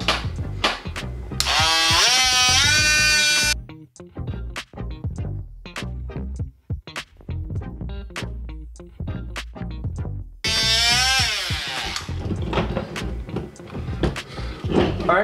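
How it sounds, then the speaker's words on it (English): A Dremel rotary tool cuts plastic on a Kenner E11 Stormtrooper toy blaster, with two loud, high whining bursts of a few seconds each, separated and followed by clicks, knocks and handling noises up close; no talk. "I'm going to be making these cuts with my Dremel."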